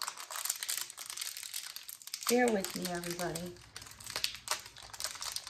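Crinkly plastic packaging of Orb Sensory Fidget Poppers torn open by hand without scissors, steady crackling and rustling throughout, with someone briefly speaking over it midway.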